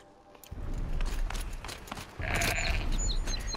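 A goat bleats in the video game Horizon Zero Dawn: The Frozen Wilds, heard as a short, close animal cry over soft footsteps and ambient game sound.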